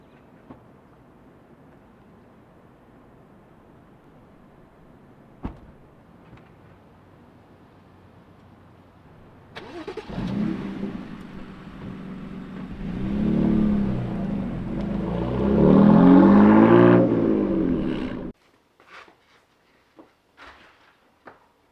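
A BMW car engine starts after a quiet stretch, then idles and revs as the car pulls away, the loud drone rising before cutting off, followed by a few small clicks.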